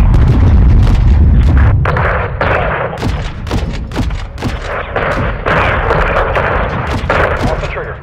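An AC-130J gunship missile hits a cartel convoy: a loud, dense roll of booms and thuds, then a long series of sharp cracking blasts that keep going in an uneven rhythm until the end.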